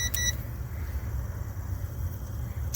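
A multimeter on continuity test emits a short beep at the start and another brief beep at the end, over a faint low rumble while checking wiring on a 1986 Ramcharger.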